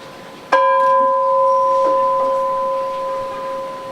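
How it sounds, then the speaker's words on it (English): One clear strike of a bell at a 4th of July ceremony, followed by a long, steady ringing tone that slowly decays over several seconds, loud and close with no talking. "you have a chance to ring the bell also"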